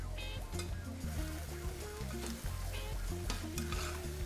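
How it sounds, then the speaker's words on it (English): Onions sweat and sizzle steadily in a hot pan while cooking for gammon steak and eggs, a continuous close frying hiss with stirring scrapes and no talk over it. "So the onions are cooking down, they're sweating out."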